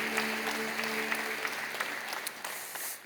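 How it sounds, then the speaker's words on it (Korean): Church congregation applauding in welcome, a steady wash of clapping from many hands that holds through and eases slightly toward the end, with a faint sustained tone underneath early on. "여러분께 박수로 환영하시죠"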